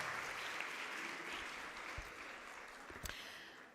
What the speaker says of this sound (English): Let's give a very big round of applause, everybody, for organizing this event.